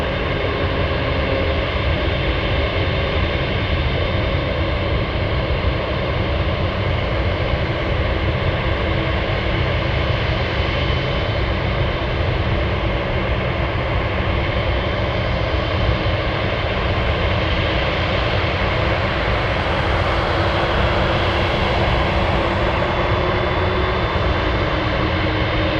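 Boeing 747 Dreamlifter landing at Anchorage: a loud, continuous jet engine roar with a broad rushing noise that holds steady throughout, with a faint rise in high whine near the end and no voices.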